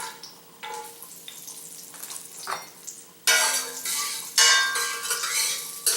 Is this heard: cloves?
yes